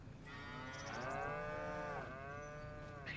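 Cows mooing in the farm game Farming Simulator 25, a long, loud, drawn-out low moo with a falling tone, then a second moo right after it, with no talk over them.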